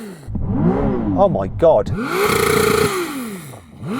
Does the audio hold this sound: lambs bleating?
no